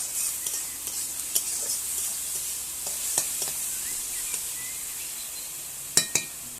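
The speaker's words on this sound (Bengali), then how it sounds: "পেঁয়াজটা খুব ভালোভাবে ভেজে নেব" Onion sizzles steadily in a hot pan while a spoon stirs it, scraping and clinking against the metal now and then, with a couple of sharper knocks near the end.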